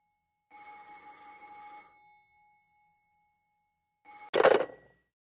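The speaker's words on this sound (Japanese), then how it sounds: "電話にお出になられた方がよろしいかと。" A telephone bell rings in a quiet room, a steady electronic trill lasting over a second, then after a pause a second louder, sharper ring burst.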